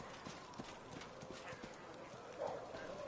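Horse hooves clip-clop in a steady rhythm in the fantasy role-playing game Pathfinder: Wrath of the Righteous, fairly close and moderately loud, with a brief whinny-like tone near the end.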